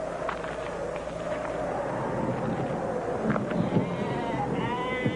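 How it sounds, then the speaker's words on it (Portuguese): A flock of about thirty sheep bleats repeatedly at close to middle distance, several overlapping calls rising over a steady outdoor rumble with no talking. "Cerca de 30 ovelhas descansavam perto dele, deitadas no solo quente."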